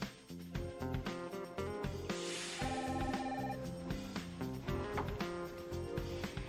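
A telephone rings at a hotel front desk, its electronic ringing pattern repeating clearly over busy background music for several seconds, with no talking.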